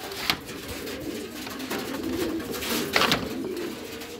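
Pigeons coo steadily inside a loft housing mixed-colour birds, soft repeated calls overlapping at close range with a couple of louder bursts, no talking.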